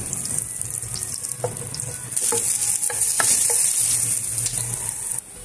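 Garlic sautéing in a pan for ginataang isda, a steady bright sizzle with a few clinks and scrapes of stirring, close up and without talk.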